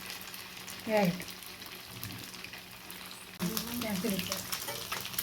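Fish fries in oil in a pan, giving a soft sizzle with brief bursts of stirring or movement, faint and close, while a person talks over it.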